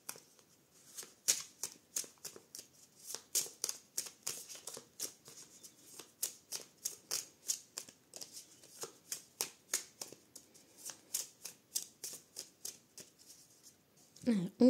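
A deck of oracle cards being shuffled by hand, dozens of quick crisp riffling flicks in steady irregular bursts, close and quiet, with a cutting motion at the end.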